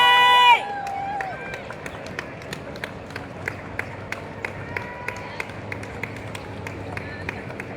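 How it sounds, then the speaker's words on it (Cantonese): Spectators clap and cheer as four school teams walk out for an under-15 futsal bronze medal game, a broad steady wash of applause with sharp individual claps popping through and a brief loud voice at the very start. "現在請大家用最熱烈嘅掌聲歡迎4支參賽球隊進場"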